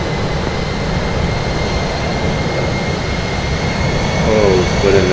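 A fixed-wing airliner takes off from a runway, heard at a distance as a steady, roaring jet-engine rumble that swells slightly louder toward the end.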